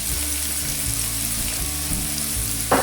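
Thinly sliced ginger sizzles steadily in a hot pan for a fish dish with garlic black bean sauce, with a low rumbling hum beneath and a brief louder scrape of stirring near the end; no one talks.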